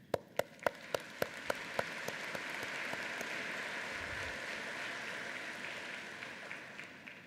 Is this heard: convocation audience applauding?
yes